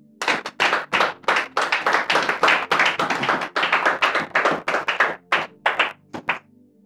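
Sharp handclaps ring out in a church service, coming in a quick, uneven rhythm of separate claps that stay close and crisp before thinning out at the end.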